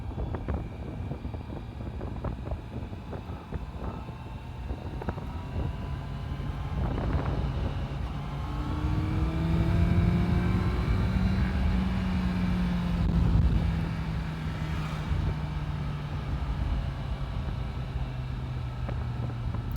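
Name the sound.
Honda CBR650F motorcycle riding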